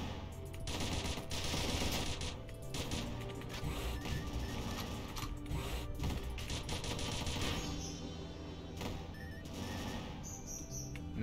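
Machine gun fire in a video game: dense, rapid bursts of automatic gunfire, loud and near, rattling almost continuously over a busy background of game effects.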